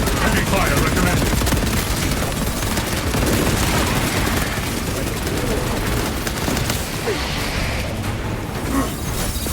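Heavy gunfire roars in the Warhammer 40k Space Marine 2 video game, a dense, continuous barrage of rapid automatic shots and booming impacts, loud and close throughout, with a voice speaking over it.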